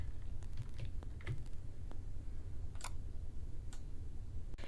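Computer keyboard keys and mouse clicks during a paste-and-login step: sparse, sharp clicks and taps close by, scattered over a low steady hum.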